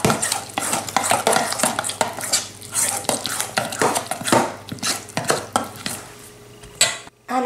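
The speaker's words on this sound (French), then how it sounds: "Je mélange tout ça" Eggplant croquette mixture with chives being stirred and worked in a bowl, a steady run of wet, scraping strokes with utensil clinks against the bowl, fairly close and continuous.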